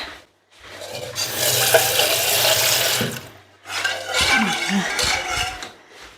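Water pours into a pot of stuffed dolma in two splashing streams separated by a brief pause, close and fairly loud, with faint clinks of cookware.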